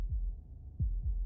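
Heartbeat sound effect in a video game: low, thudding beats at a slow, irregular pace, three soft pulses heard alone against a dull hum.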